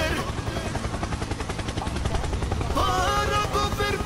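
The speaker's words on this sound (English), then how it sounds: "Helicopter, helicopter!" A helicopter's rotor chops steadily alongside rapid gunfire and game-like effects in a tank video game featuring the T-72AV (TURMS-T), loud and continuous throughout.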